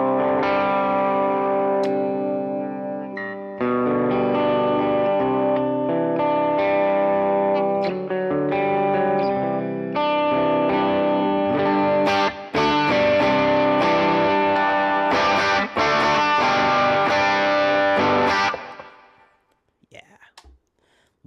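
An electric guitar runs through a Solodallas CD65 overdrive pedal on an outdoor pedalboard, giving sustained, gritty chords and picked notes that break up harder with heavier picking, then fade out near the end.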